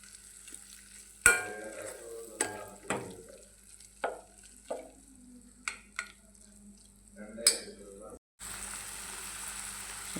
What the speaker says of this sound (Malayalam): എന്നിട്ട് ഇത് ഇളക്കി കൊടുക്കുക. നന്നായിട്ട് ഇളക്കി യോജിപ്പിക്കുക.